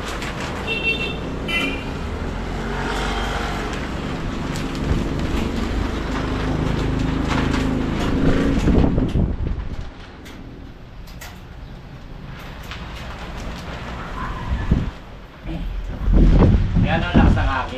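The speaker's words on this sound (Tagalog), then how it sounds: "Ayan ang lakas ng hangin." Strong wind gusts against a house where a sliding window is being installed, a steady rushing roar that swells and drops, with occasional knocks and handling sounds.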